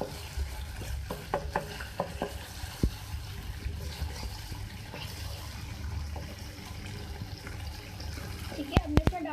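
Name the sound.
frying in pan for fish karahi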